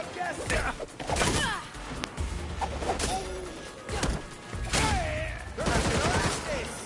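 Enemy gunfire in Gotham Knights on PS5 cracks out in several loud, separate bursts amid thuds and combat impacts, with voices talking over the action.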